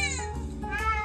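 A house cat meows at cats on a TV screen, one drawn-out, close, clear meow that rises and bends in pitch, heard alone.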